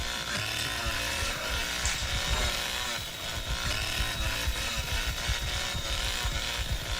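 Leatherface's chainsaw in the Texas Chain Saw Massacre video game revs continuously and loudly, a dense roaring buzz that surges and falls in repeated rev-and-run bursts for the whole stretch, with no talk.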